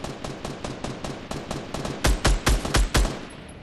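Gunfire in Fortnite: a run of rapid, sharp shots over the first two seconds, then four heavier, louder bursts spaced evenly near the end, with no talking.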